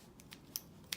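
Scissors snip zinc oxide tape during wrist taping for sport, giving two sharp, close, crisp clicks after a couple of softer rustles in a quiet room.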